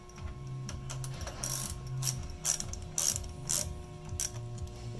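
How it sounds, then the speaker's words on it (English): A 3/8 ratchet loosens a bolt while fitting a Phaser limiter, giving quick bursts of crisp clicking pawl sounds in irregular runs. The clicks are close and fairly quiet, with a steady mechanical hum beneath. "we'll use a 3/8 ratchet, and we're simply going to relieve a little pressure off of this"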